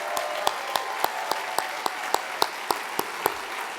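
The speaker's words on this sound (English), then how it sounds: "I think they deserve our applause too." Applause from a dinner audience at a 2009 HRC gala in New York, a steady mass of clapping with sharper individual claps standing out at a regular beat, no voices over it.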